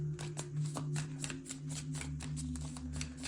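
Tarot cards being shuffled in the hands to draw one more card, a steady run of soft rapid riffling flicks close by over a low background hum.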